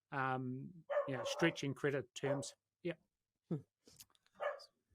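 Dogs bark in the background during a conversation, a few sharp barks and yips spaced among spoken words, fairly faint and partly overlapping the talk.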